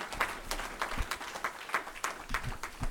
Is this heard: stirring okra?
no